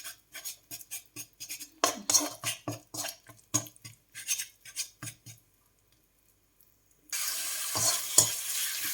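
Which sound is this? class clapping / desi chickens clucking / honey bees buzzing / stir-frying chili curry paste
stir-frying chili curry paste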